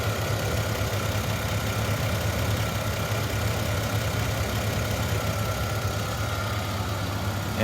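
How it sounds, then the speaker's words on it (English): A 1997 Lexus LX450 engine idles at operating temperature, giving a steady, even, close-up hum with a low rumble that stays constant throughout, with no talk. "Engine is at operating temperature, idling."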